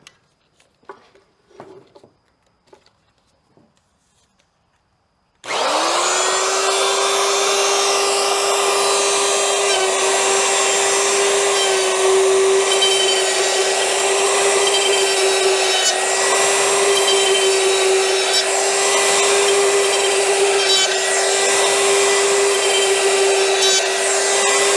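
A router cuts into the corners of a wooden piece. A few faint knocks and handling sounds come first, then the router roars up abruptly and holds a loud, steady, high-pitched whine until the end.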